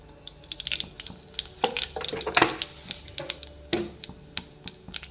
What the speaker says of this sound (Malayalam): നമുക്ക് അഞ്ചാറ് കടുക് ഇട്ട് കൊടുക്കാം